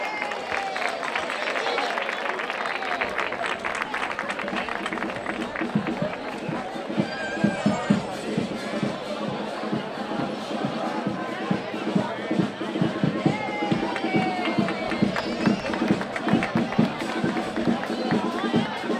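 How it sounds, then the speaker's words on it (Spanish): Audience at a Tarifa carnival group presentation applauding and cheering in a sustained, lively swell, with crowd chatter and voices running through it. "Un fuerte aplauso, por favor, para ellas."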